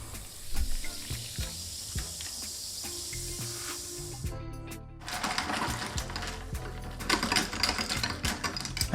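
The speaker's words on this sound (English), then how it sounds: "And finally with the soda water." Soda water is poured over ice into a strawberry grenadine mocktail. Scattered ice clinks and taps lead into a bright, steady fizzing rush that lasts several seconds.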